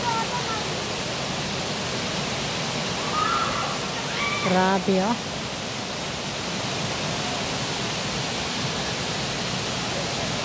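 Tumalog Falls waterfall pours as a steady, full broadband rush that fills the whole clip, with a brief voice speaking over it near the middle.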